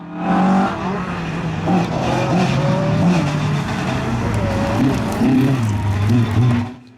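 A rally car engine roars loudly and continuously at Aghadowey, pitch climbing and dropping through gear changes, with brief tyre noise mixed in.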